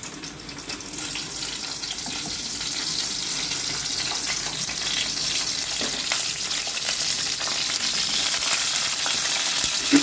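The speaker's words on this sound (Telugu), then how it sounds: "ఇప్పుడు ఇలా కట్ చేసుకున్న వంకాయలన్నీ ఆయిల్ వేడయ్యింది కదా," Cut eggplant pieces frying in hot oil, making a steady, dense sizzle with a broad hiss that runs unbroken and close throughout, slightly growing in loudness, with no voices.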